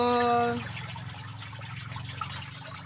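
Water draining out of a small inflatable mini pool, a soft steady trickle and gurgle heard close up after a brief tonal sound at the start.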